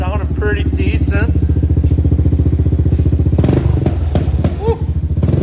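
A loud three-wheeler engine with an aftermarket exhaust runs steadily with a deep, throaty exhaust note, revving up briefly partway through.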